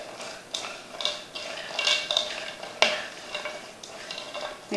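Vegetables coated with salt and herbs are tossed around in a bowl, producing close, repeated rustling swishes and light clinks of a utensil in uneven bursts, with no talking.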